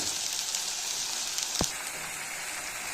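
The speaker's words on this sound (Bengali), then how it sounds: "আমরা পেঁয়াজটা ভালো করে ভেজে নেব।" Onion paste fries in a pan with a steady, soft sizzle throughout, broken by a single brief clink near the middle.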